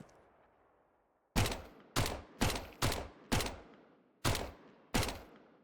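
Seven sharp single gunshots in the video game Counter-Strike 2, fired in an uneven rhythm with short gaps, each a loud close crack with a quick fading tail over a quiet background.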